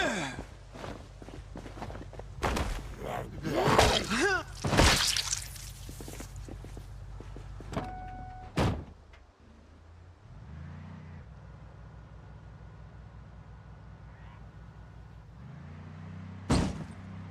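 A car drives and tows another vehicle in Project Zomboid. A low, steady engine drone runs under splashy, squelching effects and sharp clunks, with a loud crunch near the start and another near the end.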